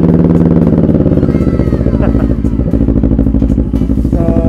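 A CFMOTO CL-X700 motorcycle engine idles close and loud with a steady, throbbing low-pitched pulse, mechanical clatter running through it and noise in the surroundings.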